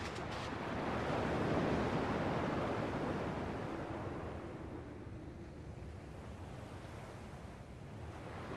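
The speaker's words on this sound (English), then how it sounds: "At least the waves sound the same." Ocean waves in the video game Kingdom Hearts, a steady broad surf wash that swells loudest early on, then settles into a constant rolling roar with no one talking.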